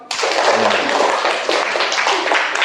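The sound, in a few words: applause from students and teachers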